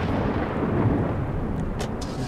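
Thunder from a thunderstorm in the game ATOM RPG rolls as a loud, continuous low rumble with rain-like noise over it and no voices.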